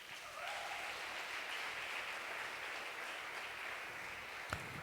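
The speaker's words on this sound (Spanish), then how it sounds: "Un aplauso a Jesús." Congregation applauding in a church during a sermon, a steady, fairly faint wash of clapping throughout with one sharp louder knock near the end.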